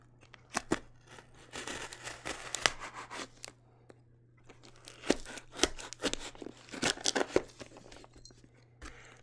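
A knife slices through thick packing tape on a cardboard box during an unboxing. It makes irregular bursts of scraping, tearing and crinkling, close and fairly quiet, with short pauses between cuts.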